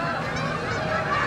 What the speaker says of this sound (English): We're getting assaulted by birds.